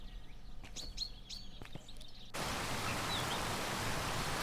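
Forest ambience from the video game Away Journey to the Unexpected: several short bird chirps and calls repeat over a quiet bed, then give way abruptly to a loud steady rushing wash like a waterfall.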